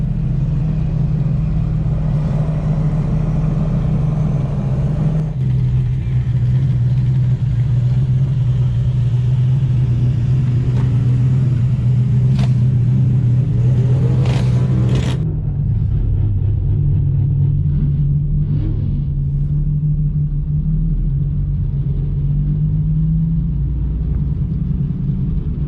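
A Honda Insight car engine revs and accelerates close by, a steady low rumble that rises in pitch with brief surges midway, then settles into a lower drone.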